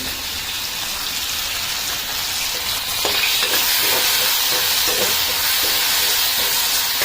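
Tomatoes with salt and turmeric sautéing in a pan: a dense, rain-like sizzle throughout that grows louder midway, with scattered stirring clicks and no voices.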